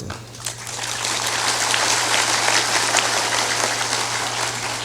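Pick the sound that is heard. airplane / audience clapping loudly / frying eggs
audience clapping loudly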